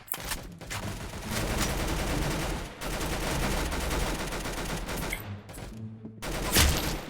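Continuous heavy gunfire from golden guns in a Roblox shooting game, dense rapid bursts filling the whole stretch with only a brief pause near the end, loud and close.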